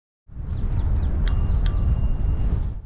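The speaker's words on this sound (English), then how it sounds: "Mikey's first bell was great." Two clear bicycle bell dings ring out close by, a short pause apart, over steady road and wind rumble from a cyclist riding among a group.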